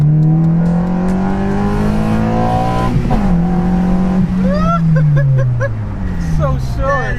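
Honda Civic Si pulling hard with engine revving high and tires spinning, a loud strained drone that shifts pitch as it accelerates, with people's excited voices over it.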